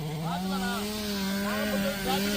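A chainsaw cuts into old, roughly 150-year-old tamarind trees beside a road, its steady engine drone holding close and loud for the whole stretch, with a voice speaking over it.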